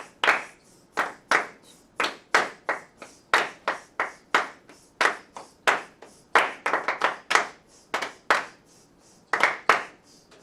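Students in a music class clap a rhythmic pattern, crisp close hand claps in steady repeating groups, some doubled quickly, with soft sizzling sounds between them and no talking.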